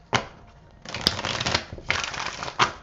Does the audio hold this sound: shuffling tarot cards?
yes